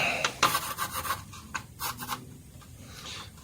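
Graphite rubbed along the recessed panel lines of a Messerschmitt Bf110C-4 Jabo model aircraft gives faint, close scratchy strokes in short rhythmic bursts, alone and quiet.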